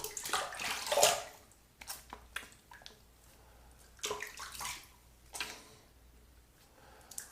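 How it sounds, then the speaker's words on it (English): Tap water runs intermittently, rinsing off duck fat shave soap, in short close splashing bursts separated by quieter gaps. "final rinse."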